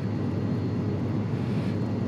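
An airplane in a flight simulator game at Aspen Airport lands badly and brakes on the runway, giving a loud, steady broadband roar with no talk.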